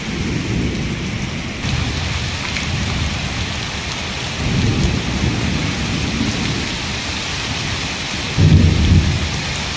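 Heavy rain pours continuously with wind in Kalahandi, Odisha, while deep thunder rumbles roll in several times, loud and close.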